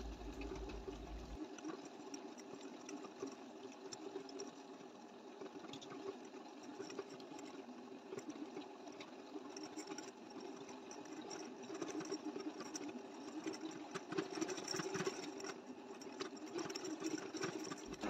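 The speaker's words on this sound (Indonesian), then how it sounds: "Adonan roti itu wajib dimixer sampai kalis elastis ya teman-teman" An electric mixer kneads sweet bread dough with a steady motor whir and rhythmic knocking that runs continuously at moderate volume.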